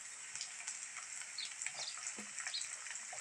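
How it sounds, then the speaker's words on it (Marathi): Tomatoes frying in hot oil over browned onions for a spicy pea curry, giving a steady, dense sizzle with soft stirring clicks throughout, close and alone. "टोमॅटो मऊ होईपर्यंत आपण चांगला तेलात भाजून घेऊ."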